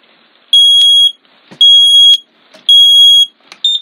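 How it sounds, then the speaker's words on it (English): A smoke alarm in a motorhome shrieks in loud, piercing high-pitched bursts, three long beeps about a second each with brief gaps, then a shorter fourth. "I have to show you by law both the smoke alarm working"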